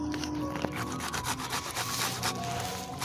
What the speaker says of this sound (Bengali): এবার আমটাও ঘষে নেবো, ঘষে ঘষে খাবো